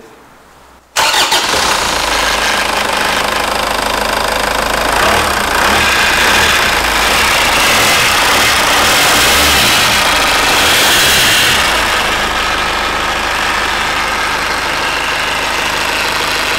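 A car engine cranks and catches about a second in, then settles into a loud, steady idle that rumbles on with no talking.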